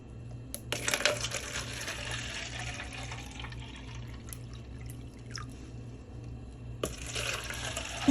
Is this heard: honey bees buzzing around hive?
no